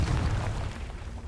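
A Confringo blasting spell bursts in Hogwarts Legacy, a single loud, deep boom that rumbles and fades over a second or so.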